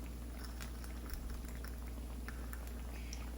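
Besan-coated eggplant slices and green chillies fry in hot oil, giving a steady, quiet crackle and fine bubbling with scattered light pops throughout.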